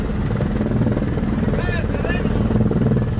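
Helicopter in news footage of a chase after suspected thieves, a steady loud rotor drone throughout with a brief high whine partway through.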